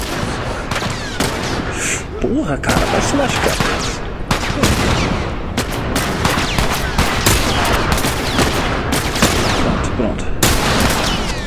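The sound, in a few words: gunfire in the video game The Last of Us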